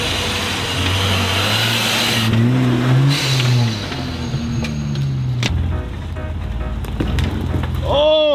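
A supercharged Jeep Gladiator engine revs up and down, a loud rising and falling drone close by, with a high whine over the engine, brief clicks and a voice exclaiming near the end.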